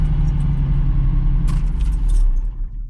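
Ferrari Dino engine idling with a steady low rumble, a US-market car with a soft exhaust boof, the tone lifting slightly near the end before it fades.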